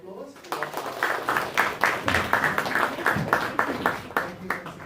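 An audience at an exhibition opening for a Pacific season event claps, a crisp, fairly close round of scattered claps that builds and holds at a steady pace.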